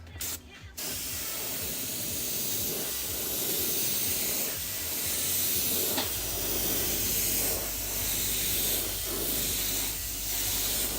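An airbrush sprays paint in a steady, close hiss that continues for about ten seconds, with slight changes in strength and a few faint clicks, and no talking.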